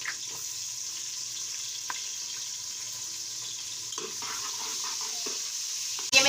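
Onions frying in a pan with garam masala and cumin, a steady close sizzle with a few stirring scrapes and knocks, rising slightly near the end.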